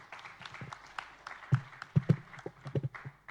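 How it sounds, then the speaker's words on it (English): Applause for the speakers on stage at a travel trade event, a short burst of scattered hand claps rising and falling for a few seconds in a large hall. "A big round of applause for our speakers."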